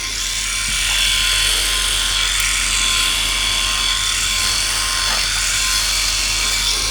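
Philips i9000 Prestige electric shaver run against the grain, a steady close buzzing drone that holds unbroken for several seconds with no talk over it.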